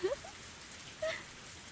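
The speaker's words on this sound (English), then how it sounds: "The sound of falling raindrops was fierce, as always." Rain falls in the visual novel game Higurashi, a steady, fierce hiss filling the whole short stretch, with a couple of faint higher tones over it.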